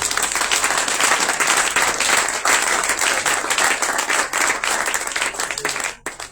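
A congregation at a Pessah church conference bursts into sustained, dense applause that fills the room at full strength, then drops away abruptly near the end.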